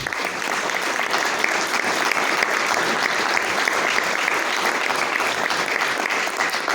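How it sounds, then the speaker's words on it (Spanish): An audience at a commemorative plaque unveiling applauds continuously, a thick, even wash of clapping from many hands that holds at the same level throughout. "Enrique Ávila, a que le vuelvo a pedir un aplauso"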